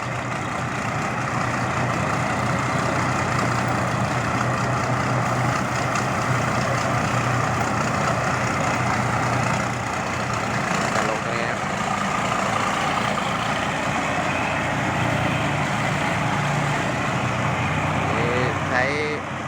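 A JO8C diesel engine with a Daikin injection pump runs in an older rice combine harvester, ready to cut jasmine rice. It gives a loud, steady, continuous drone and rumble throughout with no pauses.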